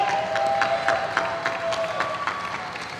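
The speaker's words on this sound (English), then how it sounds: "how about some applause and a salute for the final announced game of Julia" Crowd applause at a men's roller derby final between Texas and Missouri, scattered clapping over a sustained arena murmur, with a faint tonal whine running underneath.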